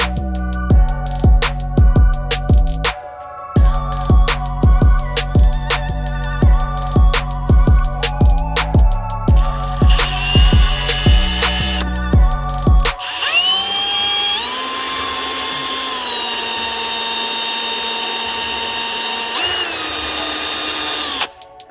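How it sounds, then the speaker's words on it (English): A power drill bores through brass on a Raptor 686 big-bore air rifle build, stuttering in rapid pulses at first, then running in one long steady whine, loud and close, no talking. "We're just very lucky that this is brass that we're drilling and not like a steel"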